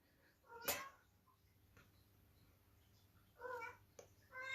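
A mother cat calls to her restless kittens with a few short, faint meows from the background, set against quiet room tone.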